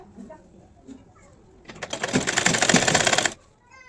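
A sewing machine runs in one steady burst of about a second and a half, stitching kurti fabric at a moderate, even pace, with quieter handling sounds before and after.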